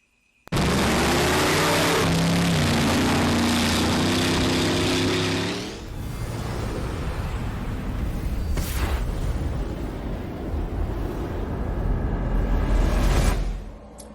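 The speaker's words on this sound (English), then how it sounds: "He has this badass Camaro that cannot keep its front wheels on the ground no matter what he does." Camaro street-racing car revving hard with a loud, sustained engine roar that rises in pitch, then drops into a rough, rumbling throttle with a sharp crack partway through and a surge near the end.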